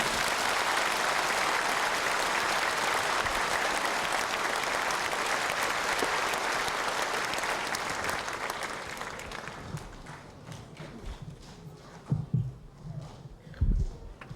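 A large crowd at a church dedication service applauds loudly and continuously, then the clapping thins out and fades into a few scattered claps.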